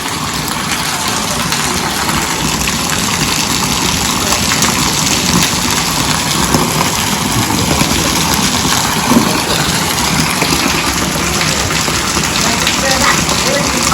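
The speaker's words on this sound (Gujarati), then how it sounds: "મિત્રો સવારમાં વરસાદ પડી ગયો છે" Steady rain falling in the morning, a continuous broadband hiss of drizzle and patter that stays even and fairly loud throughout, with a low rumble underneath and faint voices in the background.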